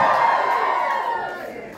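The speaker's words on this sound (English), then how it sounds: "That's when you're supposed to cheer." A small club concert audience at the Bristol Fleece gives a short burst of cheering and whooping that fades quickly over under two seconds.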